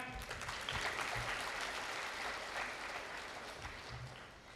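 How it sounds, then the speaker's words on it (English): An audience at a college dental graduation event applauds steadily, a dense wash of many hands clapping at moderate distance, fairly soft, with no clear voices above it. "Yeah, clap."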